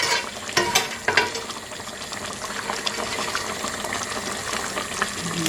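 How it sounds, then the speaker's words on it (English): Pork lifted with a slotted spoon drops into a hot oiled frying pan, giving a steady crackling sizzle with a couple of sharp spitting bursts near the start, close and continuous throughout. "I'm going to add in the pork. I'm using a slotted spoon to do that"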